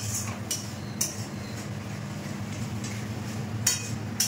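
Pots and utensils clink against each other a few times while soybean curry cooks, sharp light taps over a low steady kitchen hum.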